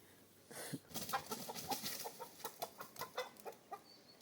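Chickens at a chicken seller's shop cluck and squawk in a run of short, uneven calls, faint and somewhat distant, with no voices over them.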